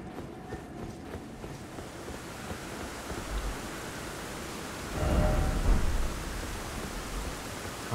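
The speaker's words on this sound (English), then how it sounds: "Yeah. Time for rain." Rain pours steadily in Elden Ring: Shadow of the Erdtree, a broad hiss throughout, with a deep rolling thunder rumble swelling loud around the middle before easing back into the downpour.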